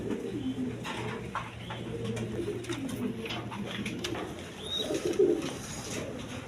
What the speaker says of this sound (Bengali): এখানে এক পেয়ার পাঙ্খি কবুতর আছে দেখেন